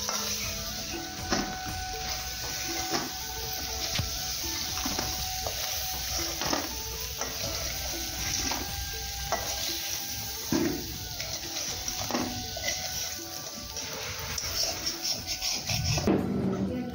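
Crab frying in hot oil for a village-style crab curry, a steady soft sizzle with repeated scraping stirs and occasional clinks, faint and close, with no talk.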